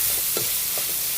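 Ground pork sizzles steadily in a pan with a few soft scrapes and pushes of stirring, close and continuous throughout.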